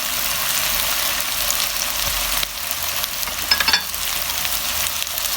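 Potatoes fry in a pan with garlic and have spices added for aloo methi, giving a steady close sizzle that runs throughout with stirring scrapes and a short clatter near the end, and nobody talks.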